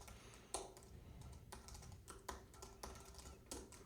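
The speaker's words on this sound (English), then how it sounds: "Doing such a bad job typing right now." Typing on a computer keyboard during a programming session: scattered, irregular key clicks with a few sharper taps, quiet and close, with no talking.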